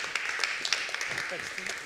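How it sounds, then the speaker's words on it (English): Continuous crowd applause fills a conference hall at the Adobe Educators' Conference in Melbourne as a host walks on stage, a dense and steady patter of many hands at moderate volume. "please give him a round of applause as he comes to stage"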